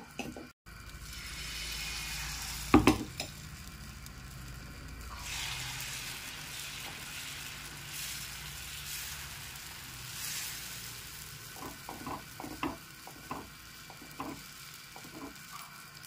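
A wheat flour dosa sizzles on a hot pan with a steady, close hiss. Scattered scraping clicks and one sharper clatter sit over the sizzle, with no talking.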